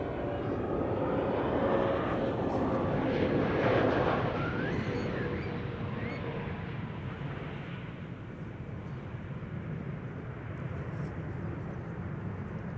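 A large aircraft passes at a distance near Amsterdam Schiphol Airport, a broad low jet roar that swells and then fades slowly, with faint voices underneath.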